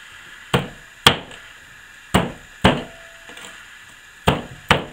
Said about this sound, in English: And we're going to mince this garlic really fine.